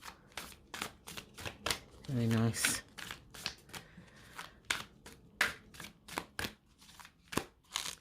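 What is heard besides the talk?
shuffling a deck of cards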